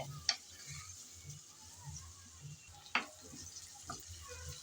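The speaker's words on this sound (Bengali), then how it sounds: "পেঁয়াজ কুচি দিয়ে নেড়ে চেড়ে হালকা করে বেজে নিতে হবে" Chopped onions stirred and lightly fried in a pan for a mushroom dish, a faint soft sizzle with a few sharp spoon clicks against the pan.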